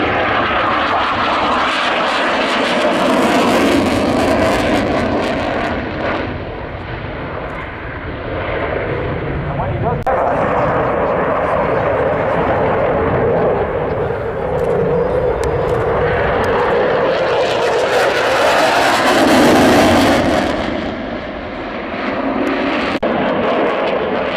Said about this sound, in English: He's rolled the aircraft inverted and pushing now.